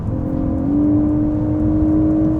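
A GWM Ora 07 Long Range Ultra electric car plays its synthetic Racing Car engine sound, a loud, continuous drone that steps up in pitch partway through and then holds, with no voices.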